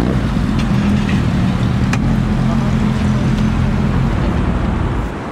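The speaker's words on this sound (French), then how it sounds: "Quelques motos légèrement modifiées à la japonaise. Je peux vous dire que" Several lightly modified Japanese-style motorcycles rumble steadily and loudly as they arrive, a continuous low engine drone with wind noise that eases slightly at the end.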